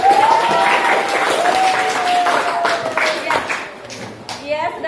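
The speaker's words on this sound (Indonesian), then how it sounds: "beri aplaus" Students in a classroom applaud at the end of a bacteria lesson, steady clapping across the room that fades toward the end, mixed with voices and a few exclamations.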